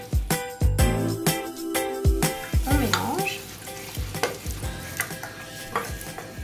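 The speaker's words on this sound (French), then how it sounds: "On va délayer le roux avec du lait." A roux stirred with milk into béchamel for lasagne, with loud sizzling and repeated metallic scrapes and clinks of a utensil against the pan, close and rhythmic, with no talk.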